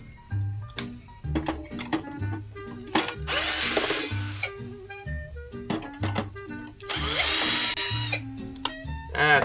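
Power driver working a Torx head screw during vintage console and arcade board repair, short whirring bursts of the motor with ratcheting clicks between them, close and loud, repeated several times.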